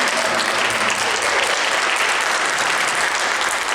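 A church congregation claps steadily to welcome a new member during Sunday worship, a dense, even wash of applause from start to finish with no voices standing out.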